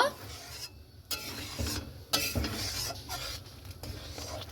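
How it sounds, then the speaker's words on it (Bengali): A spoon stirs sugar into milk in a metal pot, scraping and clinking against the sides in short, uneven strokes over a faint background simmer, close by and at moderate volume. "এবার কিন্তু চিনিটাকে দিয়ে খুব ভালো মতো করে নাড়াচাড়া করে নেব।"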